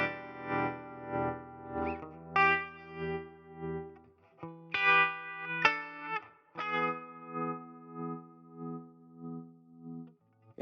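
Kmise tremolo guitar pedal set to high intensity and slow rate, sustained electric guitar chords pulsing in deep, slow volume swells, notes ringing alone with a little reverb.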